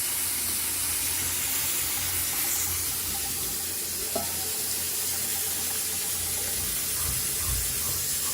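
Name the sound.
pressure cooker hissing out water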